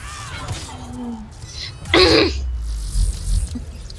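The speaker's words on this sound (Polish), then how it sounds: "Nie, to było chrząknięcie." A single short throat clearing during an online game session, a brief harsh burst in the middle, with faint background sounds before and after.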